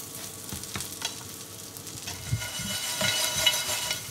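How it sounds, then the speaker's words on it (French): Small bread croutons fry and brown in a pan, a soft continuous crackle with occasional scraping stirs that grows slightly louder toward the end. "On va rajouter maintenant les petits croûtons de pain. Voilà, et vous les faites revenir, vous les faites dorer tout simplement."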